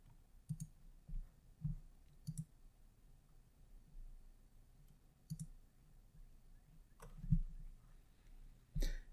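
Computer mouse clicks while working in analytics software, heard as a few faint, sparse, isolated clicks spread across a quiet room background with no speech.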